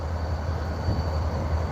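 A train approaching Central Station comes through as a low, continuous rumble at a distance, steady and fairly quiet, with no one talking.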